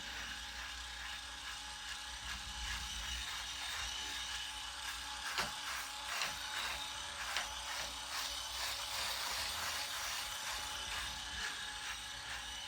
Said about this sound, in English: You can hear as I'm shaving that this razor is cutting the hair.